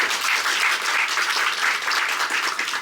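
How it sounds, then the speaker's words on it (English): Audience applause for a guest lecturer at a documentary premiere and talk, steady dense clapping from a crowd, loud and even for about three seconds with no talking over it. "So let's give him a big applause."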